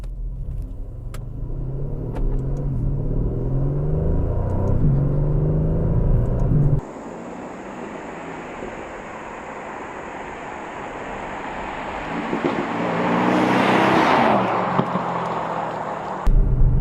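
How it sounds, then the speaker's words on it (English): Aston Martin DB11 Volante V8 accelerating hard on a deserted road, a deep rumbling engine climbing through gears, then a shift into a smoother whooshing surge with a rising whine, heard from inside the car without speech. "Gonna do a quick acceleration here and get a good feel of what this car is capable of."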